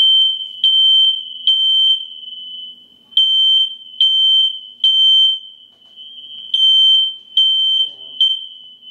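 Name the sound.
smoke alarm beeping (low battery)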